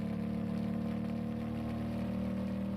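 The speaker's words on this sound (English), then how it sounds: "What is this engine sound?" A vehicle engine in a ranching video game drones at a steady idle-like hum, mid-pitched and constant, with no gear changes and no talking over it.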